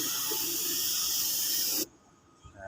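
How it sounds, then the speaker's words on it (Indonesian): A spray gun hisses clear coat onto a motorcycle body panel in a continuous burst of nearly two seconds, then stops abruptly, leaving quiet. "kita semprot clear"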